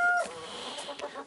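Chickens cluck briefly in a coop with damp litter underfoot, one short close call followed by softer fowl sounds over steady background noise.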